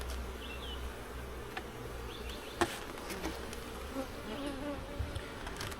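Honeybees buzz steadily around an open hive, a dense, continuous hum close by, broken by a few faint clicks and knocks while the hive is being closed up.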